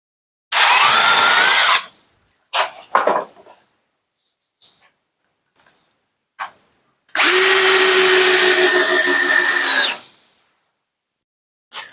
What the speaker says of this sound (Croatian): bušimo na sredinu